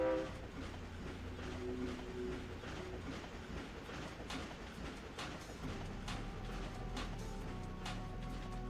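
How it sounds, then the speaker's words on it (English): A moving train ride in the Ratchet & Clank (2002) video game: a continuous low rumble with rhythmic metallic clacks and a sustained horn-like tone early on, steady and loud throughout without speech. "I think we're about to get on a train."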